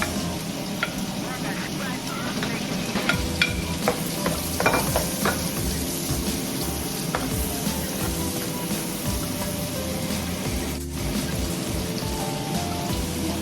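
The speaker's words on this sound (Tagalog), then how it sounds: "Lalagyan na natin ng butter. Lagay ang sibuyas." Onions sauté in butter for beef mechado, a steady close sizzle with occasional stirring clinks and scrapes throughout.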